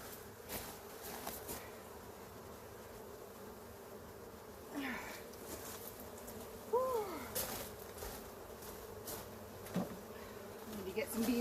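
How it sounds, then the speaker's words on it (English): Honey bees swarm around an open hive during an inspection, giving a steady low buzz throughout with a few individual bees droning louder as they pass close by. "Get some bees off the corners here"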